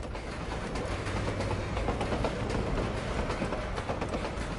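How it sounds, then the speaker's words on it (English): A train in a Borderlands game rattles along the tracks in a steady, unbroken clatter, dense and continuous throughout with no voices over it. "hearing the train rattle through my earbuds is totally not annoying at all"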